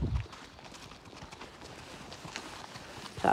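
A horse on a ride, with soft rhythmic hoof clip-clops that are faint and fairly distant under outdoor ambience, and brief louder bumps at the start and end.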